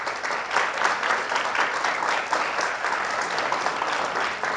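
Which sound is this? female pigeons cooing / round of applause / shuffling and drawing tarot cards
round of applause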